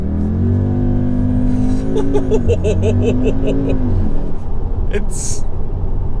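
A 2019 Audi SQ2 sports SUV with 300 bhp launching from standstill, engine revs climbing steadily in one strong pull with a brief shift dip, loud from inside the cabin.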